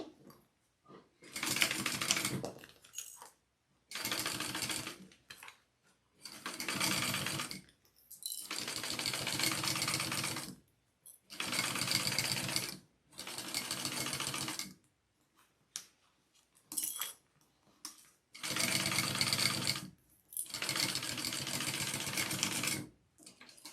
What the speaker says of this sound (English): Okay, sew that on at your seam allowance, and then we're going to flip that up and top stitch it on the top piece.